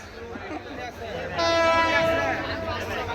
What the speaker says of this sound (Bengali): এই ট্রেন যাচ্ছে যেহেতু রেল লাইনটা বউবাজার বাজারটা রেলের উপরেই